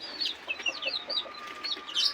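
Chickens, including native chickens, cluck and young chicks peep in quick, overlapping bursts from close range inside a coop, continuous and busy, with no talking.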